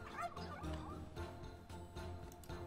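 Several turkeys gobble in the Minecraft Comes Alive mod, overlapping warbling calls repeating in quick succession, close and fairly loud with no talk over them.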